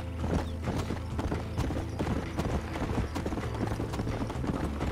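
Horse hooves gallop in Red Dead Redemption, a steady rapid clip-clop drumming close and loud throughout, layered with game ambience and no speech.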